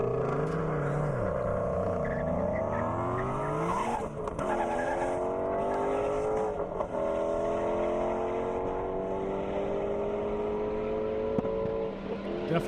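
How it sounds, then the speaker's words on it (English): A Dodge Viper makes a top-speed run on an airstrip at the Indy Airstrip Attack, its loud engine note climbing in pitch through the gears, with a brief dip at a shift, then pulling hard and steady. "Clint Shear in that Viper"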